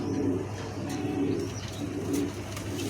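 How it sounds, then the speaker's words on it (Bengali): Imported-parentage King pigeons coo up close in low, rolling bursts that repeat roughly every second, with no talk over them. "কবুতরগুলোর কোয়ালিটিটা দেখছেন তো, কোয়ালিটি ফুল কবুতর, এগুলো নর্মাল কবুতর না।"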